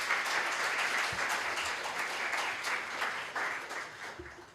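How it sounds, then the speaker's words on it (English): Conference audience at PyCon APAC 2023 applauding after a talk, a sustained wash of clapping from a large hall that fades slightly toward the end. "let's give Chuk one more round of applause for a fantastic talk."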